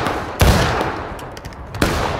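Musket and cannon fire in the Civil War game War of Rights: two loud, sharp gunshot blasts about a second and a half apart, each ringing out over a crackle of scattered distant firing.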